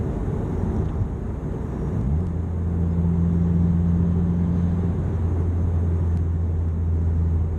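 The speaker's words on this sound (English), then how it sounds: "Nice little third gear pull." A Stage 2 tuned Subaru WRX turbo running about 19 psi of boost makes a third gear pull. The engine's low drone climbs sharply in pitch, then holds a loud, steady note over constant road rumble, with no talking.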